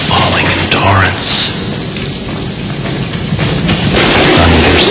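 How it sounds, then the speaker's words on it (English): Heavy rain pours steadily as dense broadband hiss, with low thunder rumbles rolling beneath it near the start and again toward the end, loud and continuous with no talking. "The rain was still falling in torrents."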